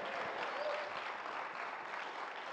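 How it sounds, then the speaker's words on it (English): A church congregation claps together during a sermon, giving a dense, even wash of applause from many hands that carries steadily for a couple of seconds at moderate volume. "clap it up today."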